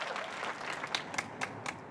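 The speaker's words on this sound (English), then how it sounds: "as the sound of grateful applause rang across the United Kingdom" Street applause for NHS carers in Sheffield during the coronavirus clapping for carers, a faint, distant spatter of claps from neighbours with a few sharper nearby claps standing out.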